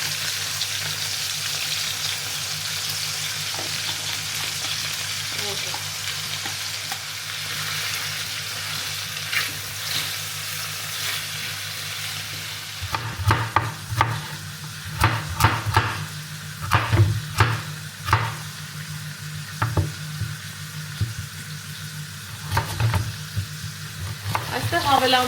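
Onion frying in a pan, a soft steady sizzle that turns into repeated scraping and stirring strokes halfway through, close and without talk.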